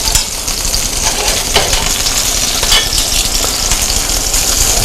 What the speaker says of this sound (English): What we want to do on the sauce again is we're trying to boil off all the liquid ingredients and have it come into a thick liquid